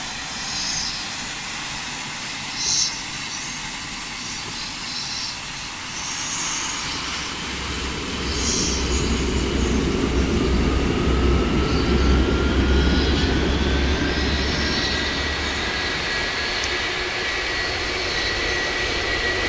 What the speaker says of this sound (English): We're gonna start engine 1, engine 2